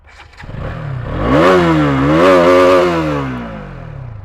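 A KTM Duke 200 BS6 motorcycle engine starts and revs up loud and close, rising through two surges before settling to a steady idle.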